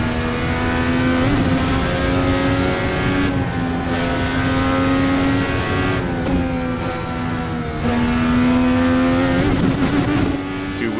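IndyCar engine in a racing video game, loud and continuous, revving high with sustained tones that dip briefly at gear shifts and climb again, no talk over it.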